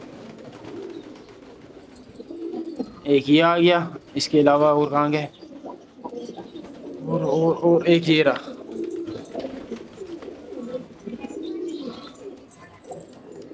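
Pigeons cooing close by in a few throaty, rolling bursts while someone talks on and off over them.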